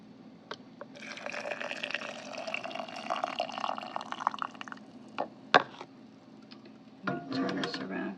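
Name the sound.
steaming water poured through a funnel into a canning jar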